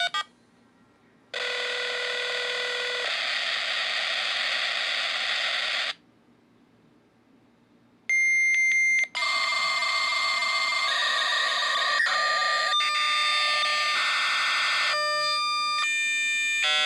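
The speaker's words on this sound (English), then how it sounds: "We're about to do Dialup." A dial-up modem connecting to the internet: a loud, steady, harsh screech breaks off into silence, then resumes with shifting tones, whistles and buzzing bursts that continue to the end, with no voices.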